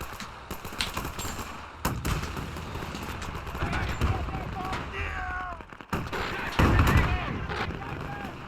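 Gunfire in the World War strategy game Men of War 2 cracks out in sharp reports amid dense battlefield noise, with someone talking over the scattered shots and rumble.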